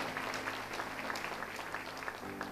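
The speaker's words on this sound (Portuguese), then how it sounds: "pode aplaudir bem forte" A church congregation applauds at a sermon, a steady, dense wash of clapping that holds at an even level throughout, heard from within the crowd.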